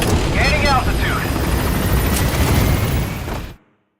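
The Pequod helicopter from the video game Metal Gear Solid V: The Phantom Pain gives off a loud, continuous rotor roar with voices and radio chatter over it, then cuts off abruptly.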